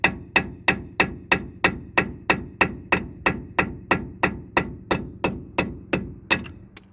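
Steady, evenly spaced hammer blows ring out one after another, about two per second, sharp metallic strikes tapping out truck wheel studs, with no talking.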